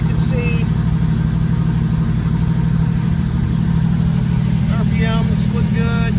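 A 1968 Mercury Cougar with a 390 V8 idles warm and close, a loud steady rumble throughout, with someone talking over it.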